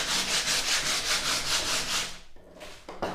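Wood filler made from PVA glue, sawdust and chalk is sanded by hand with 80-grit sandpaper in a rhythmic series of close, gritty back-and-forth strokes, then a pause and a few lighter rubs.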